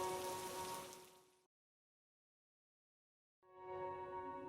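Steady rain pattering on a surface at night, a dense close hiss that stops abruptly for about two seconds of silence, then resumes at the same level.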